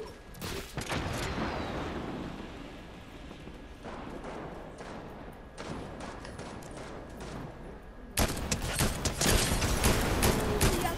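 Gunfire in Fortnite: bursts of rapid shots in clustered volleys, loud and close, separated by short gaps with a heavier barrage at the end.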